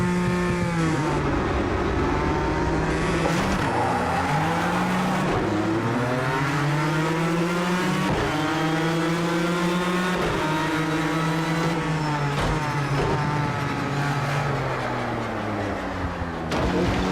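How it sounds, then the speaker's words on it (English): Ford GT race car in Project CARS 2 launching from a race start, engine revving loud and continuous through rising and falling gear pitches across the whole stretch, with no talking. "What we don't want is too much wheel spin on the start."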